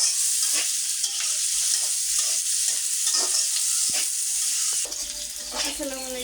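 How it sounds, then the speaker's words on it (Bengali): Onions frying in oil in a pan until red and glossy, a steady bright sizzle with stirring scrapes throughout, heard close up with no talk. "সুন্দর করে ভাজবো যাতে লাল চকচকা হয়"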